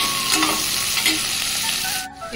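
Chopped onions fry in a pan for spinach dal, giving a loud, dense, steady sizzle with faint stirring scrapes that drops off briefly near the end.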